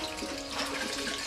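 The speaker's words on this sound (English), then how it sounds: "it is taken out and rinsed in cold water." Silk thread rinsed in cold water during dyeing, a steady close splashing and running-water wash with no voices.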